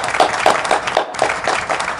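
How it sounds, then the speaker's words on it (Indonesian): A Scout gathering applauds a guest in rhythmic unison, loud claps landing in a steady beat about four times per second, briefly breaking off once before resuming in the same even pattern. "Sebelumnya tepuk tangan dulu untuk Kak Haji."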